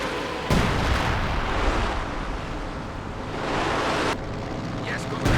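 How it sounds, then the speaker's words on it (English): Heavy howitzer fire booms in a Company of Heroes 2 two-versus-two match, with a sharp blast at the start, another partway through and a third near the end, each followed by a roaring rumble while commentators talk over it. "Still not much luck here with the heavy howitzer."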